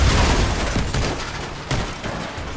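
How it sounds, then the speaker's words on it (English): Cannon fire slams into an armored vehicle in the combat game Crossout, with loud booming impacts and crashing debris over a rumbling engine and battle noise, including a sharp hit near the middle. "Oh no, who just hit me with a cannon?"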